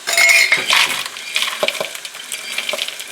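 Dehydrated bread cubes for stuffing tumbling into a bowl, a loud close rattle and clatter at first that settles into scattered lighter taps and crunches.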